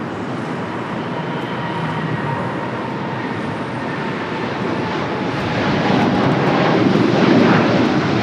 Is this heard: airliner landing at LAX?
yes